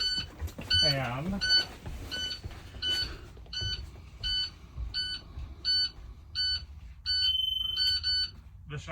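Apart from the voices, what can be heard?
school bus child check alarm buzzer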